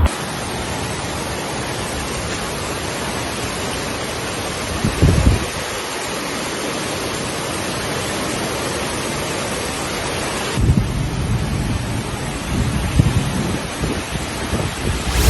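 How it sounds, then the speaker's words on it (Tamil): Heavy rain pours down with strong gusty wind under sudden dark clouds, a dense constant hiss with periodic low gusts swelling and buffeting the microphone, loud throughout. "திடீரென கருமேகங்கள் சூழ்ந்து சூறைக்காற்றுடன் கூடிய பலத்த மழை பெய்தது."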